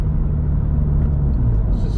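A Toyota GR86 fitted with a Remark single-wall axle-back exhaust idles at about 1,500 RPM, giving a loud, steady, deep rumble close to the microphone.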